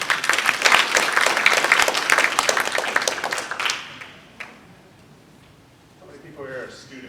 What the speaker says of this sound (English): Let's give another round of applause for Mr. Diggins.